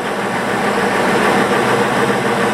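A 1984 Corvette engine with misfire and low-voltage trouble runs steadily up close, giving a loud, continuous rumbling drone that holds level throughout.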